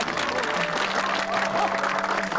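Villagers applaud together to welcome a visiting county party secretary at an evening fireside gathering in a rural village, a steady ripple of clapping lasting a couple of seconds, with faint voices mixed underneath.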